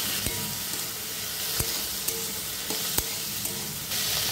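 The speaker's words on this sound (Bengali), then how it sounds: "পেঁয়াজ, আদা, রসুন আর কাঁচা লঙ্কাকে হালকা ভেজে নেব।" Onion, ginger, garlic and green chilli fry lightly in a pan, giving a constant close sizzle broken by several sharp spatula taps while being stirred.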